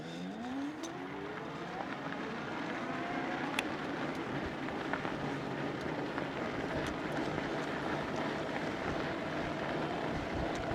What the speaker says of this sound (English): Pretty gusty northwest winds today. Going to be interesting to see how this mic deals with that.